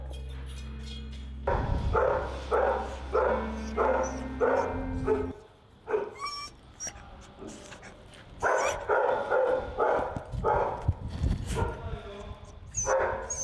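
Dogs at an animal shelter kennel bark in repeated bursts, several voices yapping and whimpering close by in two rhythmic clusters separated by a brief lull, with a low hum underneath at first.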